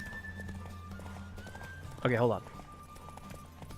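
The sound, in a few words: horse galloping in the video game The Witcher 3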